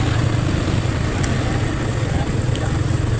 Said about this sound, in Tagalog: Sa traffic na naman tayo.